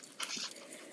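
A small dog riding in a woman's shopping basket gives a brief, faint whimpering yip against a quiet background.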